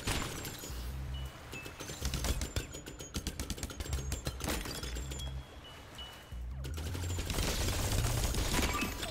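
Rapid bursts of gunfire and shattering hits from the top-down shooter game Minishoot' Adventures, fast and dense with short gaps, continuing loudly without speech.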